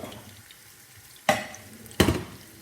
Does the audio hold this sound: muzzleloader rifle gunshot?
no